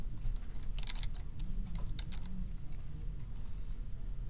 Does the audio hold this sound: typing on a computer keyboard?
yes